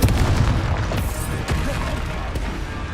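Confringo blasting spell explosion in the video game Hogwarts Legacy, a dense rumbling booming burst with crackling debris that stays loud throughout, with further thumps near the middle and end of the clip.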